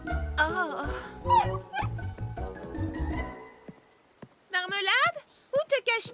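Cartoon dog barks, yips and whimpers in short bursts, mixed with a music score and an animated character's voice; a yappy cluster closes the scene.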